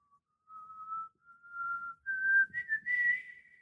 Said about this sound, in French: Et je siffle. Je fais mon sifflement.